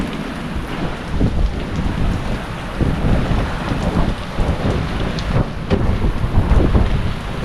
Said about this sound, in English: It's only a tropical low, but shitloads of rain